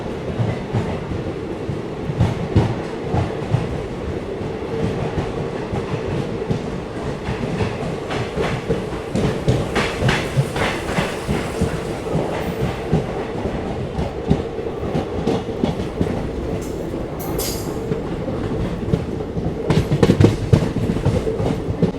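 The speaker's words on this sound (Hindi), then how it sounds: "आज काफ़ी दिन बाद हम ट्रैवल कर रहे हैं किसी ट्रेन के स्लीपर क्लास में।" A sleeper class coach of an Indian train running on the rails, a loud continuous rumble with rhythmic clickety-clack from the wheels heard from inside the carriage, steady for the whole stretch.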